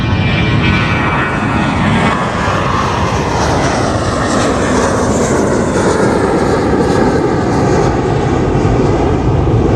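Airplanes take off from a nearby airport, departing in the opposite direction after a wind change, producing a loud, continuous engine roar that holds throughout without a break.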